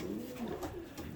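A racing pigeon coos softly in a short, low, murmuring phrase close to the microphone, with faint background noise and no talking.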